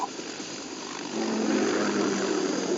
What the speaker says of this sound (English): K-60 Kasatka. Kasatka? Kamov chopper, right?